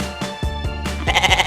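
A goat on a farm bleats several times in quick succession, the wavering, nasal calls close and fairly loud, growing more insistent toward the end.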